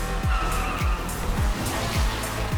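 In Need for Speed Unbound, a car drifts with its engine revving in repeated surges, and tyres squeal steadily under loud, close engine noise.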